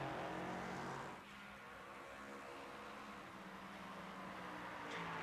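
LMP3 race cars lapping Sebring International Raceway in a racing video game, engines droning steadily and loudly throughout with a brief dip in level around a corner.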